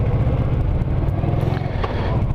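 A carbureted 1990 Honda Pacific Coast motorcycle rumbles steadily while being ridden, a loud, continuous low engine drone with wind noise throughout.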